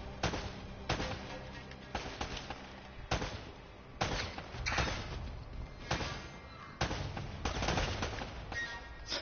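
Gunfire in Uncharted: Drake's Fortune, repeated loud bursts of rapid shots in a steady stop-start rhythm, each volley cutting off and resuming about a second later.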